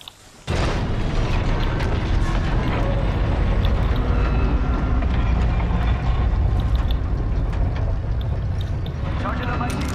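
Jump pad deploying in Apex Legends, heard as a sudden loud burst of mechanical, booming noise that starts after a brief quiet moment and keeps up as a dense, steady roar of game sound.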